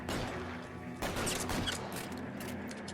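Gunfire during a shootout in L.A. Noire: a couple of sharp bursts of shots ring out, set against a dense, noisy background of crackle and rumble.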